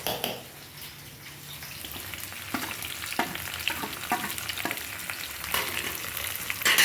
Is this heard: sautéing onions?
yes